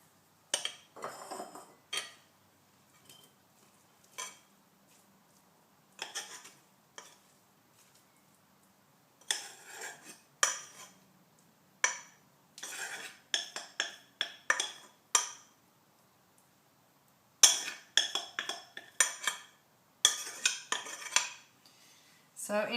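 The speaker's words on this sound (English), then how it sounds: "so that it doesn't keep cooking and get mushy, I'm actually going to tip it into a bowl." Cooked quinoa is tipped from a pot into a bowl with scattered close clanks, scrapes and clinks of metal and dishware coming in short irregular bursts separated by quiet gaps.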